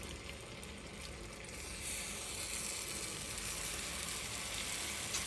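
Batter poured onto a hot pan sizzles as a steady broadband hiss that swells noticeably louder partway through and then holds, close and unbroken, with no talking.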